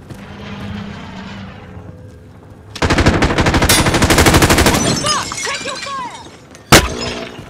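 Automatic gunfire from Call of Duty Modern Warfare on Rebirth Island, played on PS5, erupts in loud, dense rapid bursts over a game soundscape, with scattered shots and one sharp, close report near the end.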